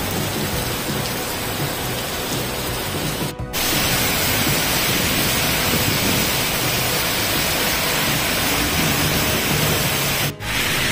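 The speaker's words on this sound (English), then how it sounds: "reach Ipoh just in time for the heavy downpour" A heavy rain downpour hammers down in Ipoh, a dense, loud and continuous roar of rain with no talk, broken only by two very brief dips.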